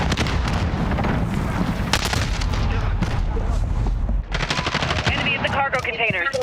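Heavy gunfire and explosions pound in a military shooter video game, with rapid bursts and booming blasts throughout while a voice talks over the action and radio-like chatter breaks in near the end.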